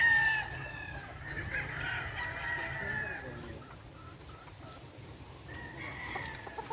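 Boston Black gamefowl rooster crowing at a game farm, a drawn-out crow standing out over steady farm background noise, with other crowing or clucking fainter in the distance.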